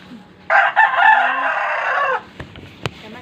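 A rooster crows once, loud and near, a drawn-out call followed by a few faint clucks and small knocks.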